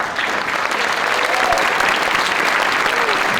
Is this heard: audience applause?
yes